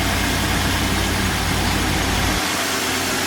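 A 2016 Ford F-150 with a 3.5 V6, revived after being a dead engine and still holding transmission fluid in its cylinders, runs loudly and steadily up close, with a continuous rough rumble throughout.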